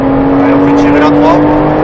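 A Porsche Cayman S pulls in third gear on a race track, its engine a loud, steady drone inside the cabin while someone speaks over it throughout.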